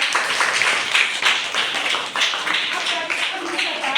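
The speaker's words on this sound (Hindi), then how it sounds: "इसलिए पृथ्वी को ताली बजाओ" Children in a classroom clap their hands together in a quick, dense burst of claps that runs evenly for several seconds.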